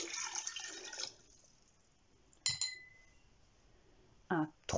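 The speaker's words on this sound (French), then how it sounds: "vais verser dedans des verres" Water poured from a large one-litre jug into drinking glasses: a brief splashing pour at the start, then quiet, followed by two short clinks of glass and another brief pour near the end, fairly faint and close.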